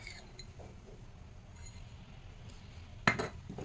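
A spoon stirs curd and coffee powder in a bowl, giving faint scraping and then one sharp, close clink against the bowl near the end, over quiet room hiss.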